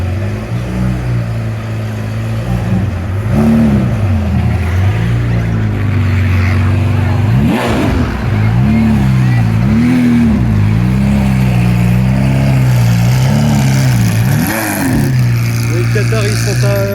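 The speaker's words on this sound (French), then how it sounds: "Toujours plus de bagnoles." Cars rev and drive past in Monaco, engines rising and falling in loud, close sweeps one after another, with a wavering roar of passing vehicles throughout.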